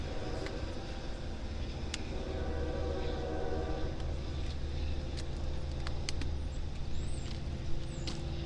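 A Long Island Rail Road train rolls past a station at Greenlawn or Huntington during the evening rush, a steady low rumble with clattering wheels and brief horn-like tones over a constant hum of station ambience.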